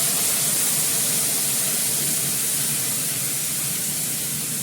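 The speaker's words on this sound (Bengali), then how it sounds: "আমি এর মধ্যে জল দিয়ে মাছটা ছেড়ে দেবো" Water is poured into a hot pan of fried spices before fish goes in, producing a loud, dense, continuous hiss of steam and sizzle, close up and unbroken, with no talking.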